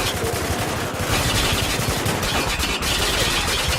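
Sustained, dense gunfire from automatic weapons in a military shooter video game, a loud, continuous rattle of shots that barely lets up through the whole stretch, with no voices over it.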